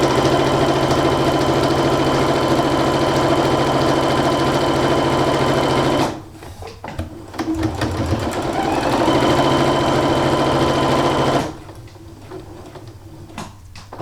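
Sewing machine running a French seam along a bag for bunting, wrong sides together, a steady mechanical whir for about six seconds, then a brief stop and a second steady run before it cuts off.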